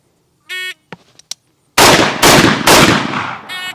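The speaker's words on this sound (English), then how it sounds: "I'll give you 3 seconds, because that's what the timer's set for, to give me 3 shots" Three loud, sharp rifle shots with a muzzle brake fire in quick succession on an outdoor training range, each a broadband blast with a ringing tail, preceded and followed by the electronic beep of a shot timer.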